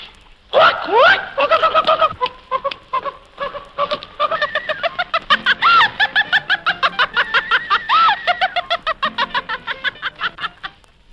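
A chicken clucks and squawks in quick bursts, dense rhythmic calls close by, with rising cackles and honk-like notes throughout.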